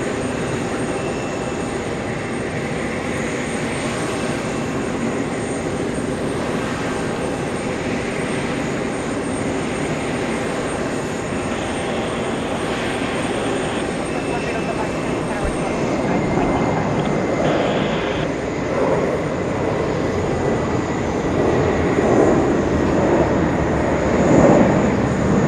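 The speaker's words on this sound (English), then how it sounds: "That's a 777-300 extended range, a departure from 13 left, departure 13 right." A Saudi Boeing 777-300ER in retro livery departs JFK from runway 13 right, its engines a loud, steady broadband roar that holds for the whole stretch and swells slightly toward the end.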